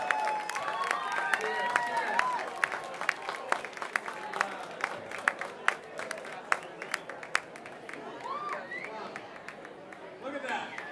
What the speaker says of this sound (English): I think we should applaud all the staff and musicians.